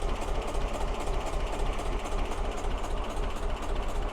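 A Gardner 2LW diesel idles in the engine room of a narrowboat built by Nantwich Canal Centre on a Tyler Wilson shell, a steady, close, low thrumming tick-over with no pauses.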